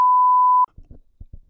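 A single steady censor beep tone lasts just over half a second, then cuts off into quiet, faint talk.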